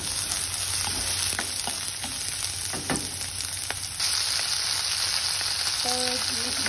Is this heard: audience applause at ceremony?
no